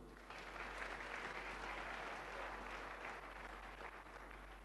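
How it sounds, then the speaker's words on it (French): An audience at an evening church gathering applauding newcomers, a steady wash of clapping that holds for several seconds with a low hum underneath, with no voices on top. "Oh, acclamons pour les nouveaux"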